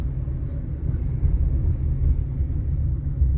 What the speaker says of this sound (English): we just thought we'd drive into Braunston Village